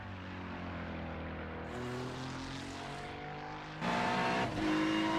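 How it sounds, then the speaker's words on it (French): A Ferrari 296 GT3 race car in a racing video game, a sustained engine drone that rises in pitch and grows louder toward the end as the car passes close by, with no voices. "La Ferrari 296 de La Rochelle va passer la ligne."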